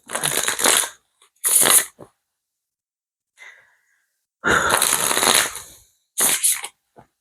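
Tarot cards are riffled and shuffled by hand in four distinct bursts, close and crisp, separated by pauses with a faint breath in between.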